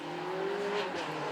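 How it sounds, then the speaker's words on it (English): Mid-engined V8 supercar howling as it accelerates up a hill climb at a supercar weekend, a single rising engine note heard from a short distance, steady and moderately loud with no talk. "this one's more of a howl from that mid-mounted V8"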